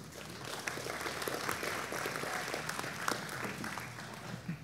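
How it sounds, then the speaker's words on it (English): Audience applause at a church live event, a steady wash of many hands clapping at moderate level, sustained throughout without speech. "Never thought it would get an applaud like that."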